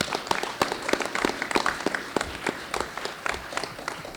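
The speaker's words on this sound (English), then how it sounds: "Please join me in giving our panel one last final round of applause." An audience gives a panel a closing round of applause, a crowd's scattered clapping, moderately loud and steady.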